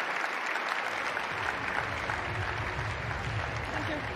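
A tennis crowd applauds steadily at close range after the winning match point in a WTA Stuttgart first-round match.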